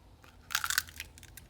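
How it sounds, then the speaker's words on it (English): An egg cracked one-handed, a short crisp crunch of shell followed by a few faint crackles, close and quiet, with no talking. "Let me show you how to crack this egg with one hand."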